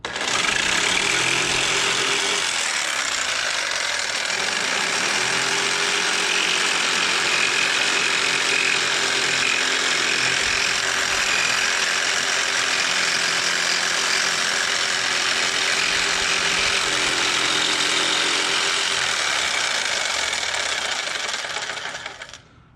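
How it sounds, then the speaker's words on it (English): Jigsaw cutting wood during a carport-to-bedroom conversion, a loud steady buzzing whine that runs almost without a break for over twenty seconds and then stops abruptly at the end. "holds the jigsaw in place, and I turn it with my right hand."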